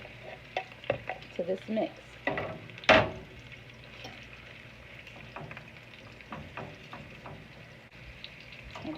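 Garlic cloves frying with onions in a pan for French onion soup, a steady sizzle with stirring and scraping clatter throughout, one sharp louder scrape near the middle, and a voice speaking briefly.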